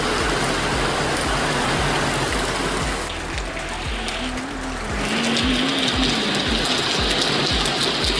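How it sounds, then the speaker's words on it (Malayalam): Heavy rain pours down on the yard of a house in Kottayam, Kerala, a dense, steady wash of drops that eases briefly midway and then returns at full strength, with a faint low tone underneath. "കണ്ടോ മഴ"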